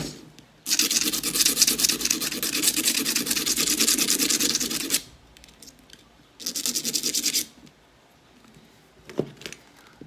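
Sandpaper rasps against a small part of a JN39 rubber-powered model airplane kit: one long steady run of scratchy rubbing, then a shorter second burst and a few light scrapes, close and alone.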